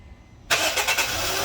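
A car engine cranks and catches during a battery cold-cranking-amps test, cutting in abruptly after near silence and settling into a loud, steady idle close by.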